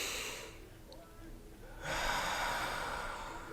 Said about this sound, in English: go ahead and breathe in now.